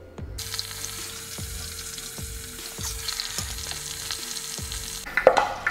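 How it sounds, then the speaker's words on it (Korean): Crackling pork pieces deep frying in oil under a lid, a steady bubbling sizzle with regular knocks and a louder clatter at the end. "지금 한 8분 정도 튀고 있었는데"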